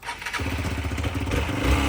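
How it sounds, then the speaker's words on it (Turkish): A Hero XPulse motorcycle engine catches and settles into a rough, sputtering run close up, loud and steady after a brief start. "Ya da durduğu yerde motoru çalıştırırsınız."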